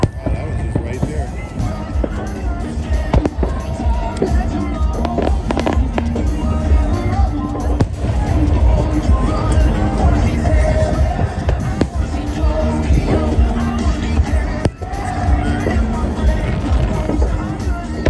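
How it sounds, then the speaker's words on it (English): Fireworks bursting at the Nagaoka Fireworks Festival in Niigata, Japan, a steady barrage of booms and crackles with crowd noise and voices talking throughout. "It's explosions."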